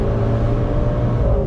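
A 2019 Maserati Levante GTS with a twin-turbo V8 accelerates hard, its engine drone steady and loud from close up, with no voices over it.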